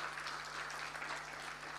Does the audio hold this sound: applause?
yes